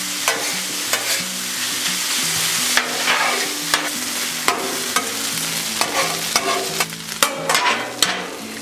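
Hash browns fry in butter on a Blackstone griddle, giving a loud, dense sizzle close up, with intermittent spatula scrapes and taps cutting through the crackle.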